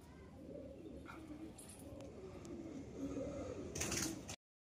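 Pet pigeons kept for sale, a male and female pair among them, coo in soft, low, repeated throaty phrases against a steady background hum. The sound grows slightly louder toward the end before cutting off.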